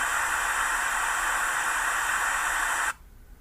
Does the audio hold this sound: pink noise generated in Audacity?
yes